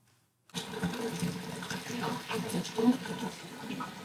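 Kitchen sink tap running full after a blocked P-trap was cleared with an auger, a steady splashing rush of water that starts abruptly and continues without a break.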